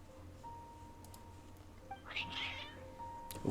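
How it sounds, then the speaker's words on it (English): A cat meows once in the video game Genshin Impact, an odd, wavering mid-pitched cry in the middle of the moment over a faint steady game tone and quiet background. "That was an odd meow."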